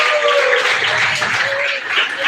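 Church congregation applauding for Jesus during a worship service, dense continuous clapping from a crowd, loud and steady, with a voice faintly over it.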